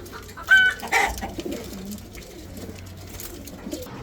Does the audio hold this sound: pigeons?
yes